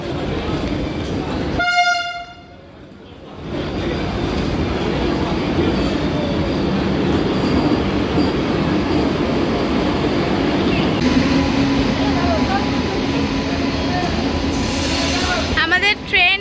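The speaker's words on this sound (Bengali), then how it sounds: "আমাদের ট্রেন ঢুকে গেল" The Howrah–Patna Vande Bharat Express pulls into a station platform with a sharp horn blast, then a loud, continuous rumble of rolling wheels and carriages, and a brief second horn near the end.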